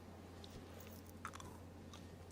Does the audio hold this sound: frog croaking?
no